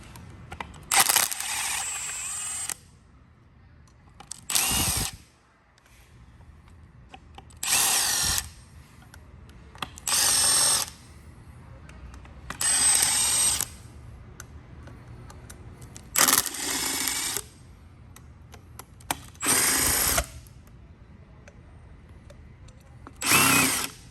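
Power drill spinning out engine bolts during a teardown of a 2013-2016 Hyundai Genesis Coupe 3.8 V6, loud whirring bursts repeated about eight times with short quiet gaps between them, no talking.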